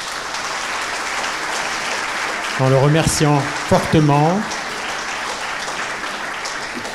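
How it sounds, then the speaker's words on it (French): Conference audience applauding a speaker in a hall, with steady dense clapping throughout, while someone speaks briefly over it in the middle. "on peut continuer d'applaudir"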